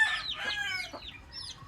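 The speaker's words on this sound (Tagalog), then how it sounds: "Ang manok nga puti. Kana mungaan." A white chicken clucks nearby in a few quick, throaty calls within under two seconds, over faint background noise.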